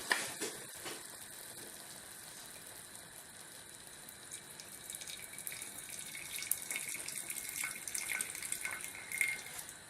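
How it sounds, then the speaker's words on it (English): Mushroom cooking liquid is poured off into a bowl in a steady, quiet, trickling splash that continues throughout, with no voices. "So now we're going to pour the liquid off into this bowl."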